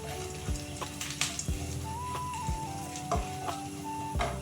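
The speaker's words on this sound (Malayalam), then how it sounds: "എന്നിട്ട് നന്നായി ഇതെല്ലാം സോട്ട് ചെയ്യുക." Chana dal and ivy gourd sautéing in oil, a soft steady sizzle with periodic scraping and stirring knocks, recorded close and fairly quiet.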